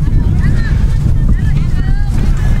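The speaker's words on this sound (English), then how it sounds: "Very windy day here in Concord, New Hampshire." Strong wind buffeting the microphone at an outdoor women's college soccer game in Concord, New Hampshire, a loud, continuous low roar and rumble throughout, with faint voices and whistles from the field underneath.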